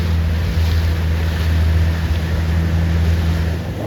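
A motorboat tows 29er sailing dinghies upwind during a racing regatta: a steady, loud low engine drone runs throughout, mixed with wind and the wash of waves against the hull.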